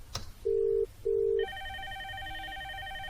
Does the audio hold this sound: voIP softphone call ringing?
yes